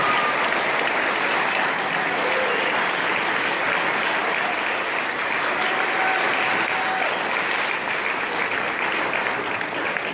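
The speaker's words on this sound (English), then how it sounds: "let's give them a great round of applause." A graduation audience at the Ohio State School for the Blind commencement gives the students a long, dense round of applause, steady and loud throughout with no talk over it.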